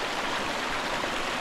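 Spring-fed water runs in a continuous, steady rushing flow, loud and close, with no voices over it.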